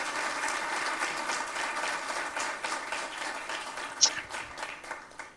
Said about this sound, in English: I hope all of you can do this with a round of applause for him